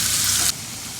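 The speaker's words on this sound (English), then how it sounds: "I will saute the onions" Onions sauté in a hot pan beside a pot of cooking rice, giving a loud, steady sizzle for about half a second before it drops to a quieter background hiss.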